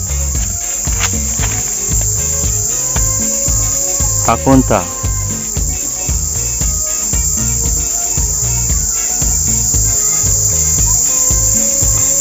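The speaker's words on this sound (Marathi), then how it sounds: "या झाडावर किडे आहेत." Dense, continuous chirring of many insects, crickets most prominent, from a tree in a quiet forest near Jawhar, holding steady throughout with faint patters and a brief rustle midway.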